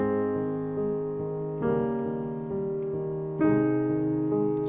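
Solo piano plays a Beethoven piece, with the top melody note in the right hand brought out over softer chords; sustained tones change in three distinct struck phrases, clear and close with no talking.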